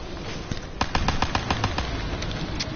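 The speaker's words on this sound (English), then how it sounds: "use your pistol, shoot the zombies" Rapid pistol shots at zombies in the video game Der Eisendrache: a quick string of about eight sharp cracks in fast rhythm, fairly close, over a steady game background.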